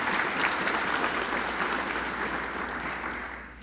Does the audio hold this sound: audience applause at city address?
yes